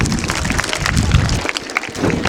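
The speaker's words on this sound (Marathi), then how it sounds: "तोरणा. जोरदार टाळ्या." A school audience applauds during a Shivaji Jayanti 2022 quiz on Chhatrapati Shivaji Maharaj, a dense, steady patter of many hands clapping at moderate volume for a couple of seconds.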